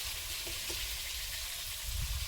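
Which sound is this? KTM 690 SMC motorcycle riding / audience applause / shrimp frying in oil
shrimp frying in oil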